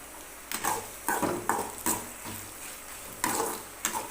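Red chillies, coriander seeds and cumin dry roasting in a pan, with a series of distinct scraping and stirring strokes against the metal at a steady pace, fairly close, with no talking.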